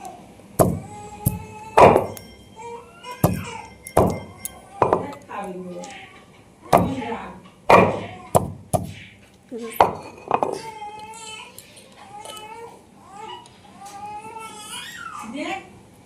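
Food ingredients being pounded and crushed in a home kitchen, a series of sharp, irregular thuds and knocks spread through the stretch, close by, with conversation running between and under the strikes.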